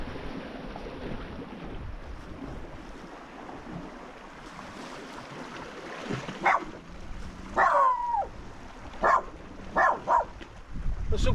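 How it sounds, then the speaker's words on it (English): Dogs bark at a rocky seaside bay in Anglesey, several sharp barks in clusters over the last few seconds, heard over steady wind and surf with a faint boat-like rumble underneath. "that's what the dogs are barking at"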